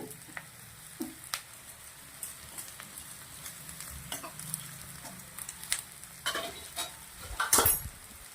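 Cooked rice stirred into a pan of frying mixed vegetables for vegetable pulao, with soft scraping of a spoon against the pan over a faint sizzle and occasional sharper clinks of utensils, close and fairly quiet.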